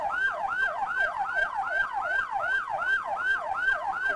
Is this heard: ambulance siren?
yes